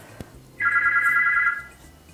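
After a soft click, a telephone rings with one clear, sustained electronic trill lasting nearly a second, close and fairly loud against a quiet room.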